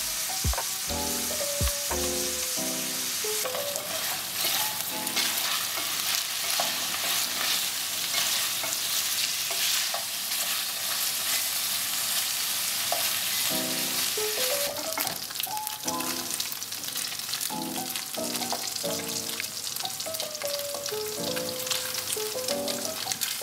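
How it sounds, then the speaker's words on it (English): Pork sizzles and fries in a pan with Chinese karela (bitter gourd), with steady loud frying hiss throughout and repeated scraping, clattering stirs of a spatula flipping the meat; no one speaks. "Continue to stir and flip over the pork so both sides are evenly cooked."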